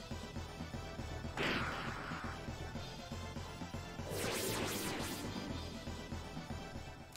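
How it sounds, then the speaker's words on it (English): Wooden barrels smashed in the Shining Force III video game, two crunchy breaking crashes a few seconds apart, the second longer and fuller, over steady in-game background sound. "maybe David will level up from smashing barrels"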